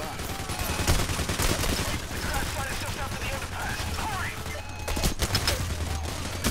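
Rapid bursts of close gunfire from heavy shooting in the heist game Payday: The Heist, firing continuously through the clip with brief lulls and a surge near the end, mixed with faint game chatter.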